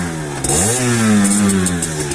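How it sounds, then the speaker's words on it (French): A Sherco SMR motorcycle engine fires up close by after a brief crank, then revs upward and settles into a steady, rising-and-falling mid-pitched drone. "je vais démarrer la moto"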